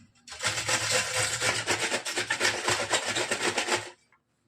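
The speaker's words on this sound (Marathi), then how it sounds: "ह्या साईडनं मी छानसं किसून घेणार आहे" Bitter gourd (karela) is rubbed steadily against a kitchen grater for chutney. The rasping strokes are close, even and rhythmic and run for about four seconds with no talk.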